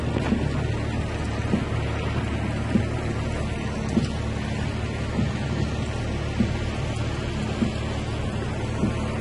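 Heavy early-morning downpour in Pénjamo, heard from inside a vehicle: dense, steady rain roar with low rumbling throughout and occasional thunder-like thumps, loud and continuous with no talking.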